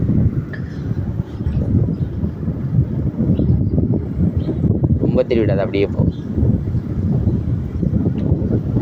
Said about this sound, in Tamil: காத்து நல்லா இருக்கு.